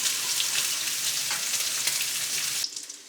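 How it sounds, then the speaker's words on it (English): Shrimp and cheesy grits are stirred continuously in a pot until creamy, producing a steady, close bubbling hiss and scrape that runs for a few seconds, then drops away sharply near the end. "we'll continue mixing that until we get it creamy"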